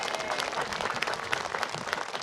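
A congregation at a church prayer meeting claps together in a dense, steady round of applause that carries evenly for a couple of seconds.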